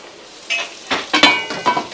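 Mutton sautéing with spices in a pan for a large feast, heard as a series of sharp, close stirring scrapes and sizzling bursts that come in uneven strokes over a low hiss.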